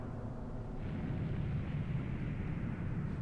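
A loud, sustained explosion rumble from the PC version of Final Fantasy VII, a dense low roar that swells and holds steady for a few seconds without any talking.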